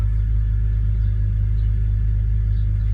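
A BMW E46 330Ci Clubsport engine idles steadily just after an oil, oil filter and oil level sensor change, giving a smooth, even low rumble close by with no revving or voices.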